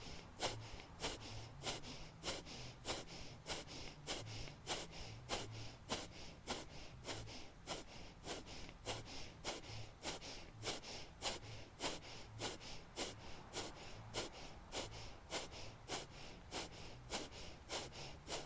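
Rapid, forceful nasal exhalations of Kapalabhati yoga breathing repeat in an even, quick rhythm of sharp puffs, close and soft, continuing steadily without talk.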